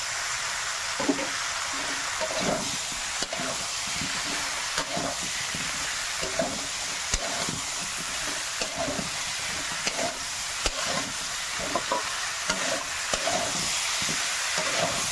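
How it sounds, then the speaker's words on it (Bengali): Spices and tomato fry steadily in a pan for a Bengali pona fish curry, with a continuous sizzle and regular scraping stirs, close and clear, no voices. "একটু ভালো মতন করে ভেজে নিই মশলাগুলো"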